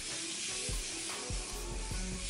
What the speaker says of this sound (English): now I'm going ahead and just spraying my face with the Morphe Continuous Setting Mist Matte